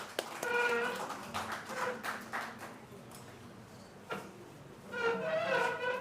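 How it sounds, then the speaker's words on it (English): A seminar audience applauds the panelists with scattered, moderately loud clapping. It swells at the start, thins in the middle and rises again near the end. "A round of applause for all our panelists,"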